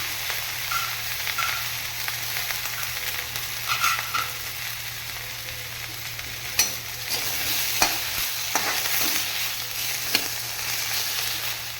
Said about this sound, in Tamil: கொத்தமல்லி இலை கருவேப்பிலை கொஞ்சம் உப்பு வெங்காயம் தக்காளி இதெல்லாம் ஒன்றா போய் போட்டு வதக்கிக்கலாம்